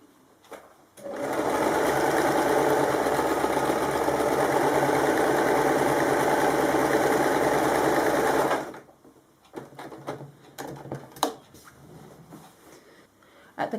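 Machine stitching through both layers of a kimono wrap top: a loud, continuous sewing machine whir runs for about eight seconds, then stops, leaving small handling taps and rustles of fabric.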